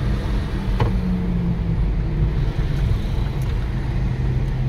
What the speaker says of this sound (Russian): А вот эта машина похоронная